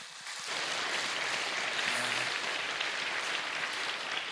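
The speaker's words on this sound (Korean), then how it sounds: "우리 서로 교구를 향해 서로 박수로 격려합시다" A church congregation bursts into applause during a service, a dense, even clatter of many clapping hands that starts after a brief quiet moment and holds steady throughout.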